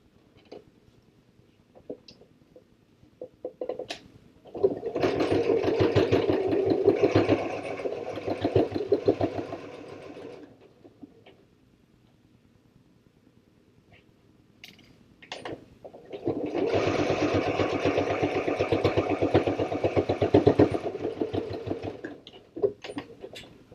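A sewing machine stitches a fabric pouch in two sustained runs of rapid whirring, each roughly six seconds long, separated by a quiet pause with faint handling clicks.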